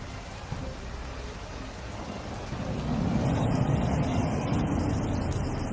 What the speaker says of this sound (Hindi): बारिश थमने का नाम नहीं ले रही।